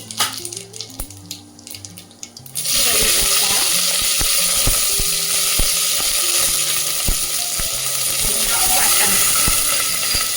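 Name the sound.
mustard seeds and cumin sizzling in hot oil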